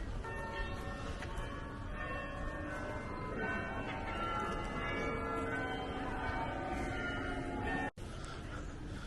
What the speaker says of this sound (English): you might have heard the bells in the background, okay? Which I think is from this church over here